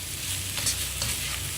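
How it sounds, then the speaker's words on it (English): Vegetables for Indian-style fried kuey teow sizzle steadily in a hot pan, with scraping stirs of a spatula breaking through the continuous frying hiss up close. "keep stir frying this till the vegetables are cooked."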